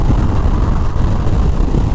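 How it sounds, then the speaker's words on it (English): Strong wind buffets the microphone during a ride near Sunset Point, Arizona, with a constant low roar and rumble, loud and steady throughout, with no voices. "My God, it's windy."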